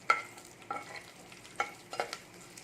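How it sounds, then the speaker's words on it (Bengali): Chili flakes fry lightly in a pan with a faint sizzle under several sharp scraping stirs of a utensil, close and quiet over a few seconds. "এবার এইটাকে আমি একটু ভেজে নিচ্ছি হালকা করে"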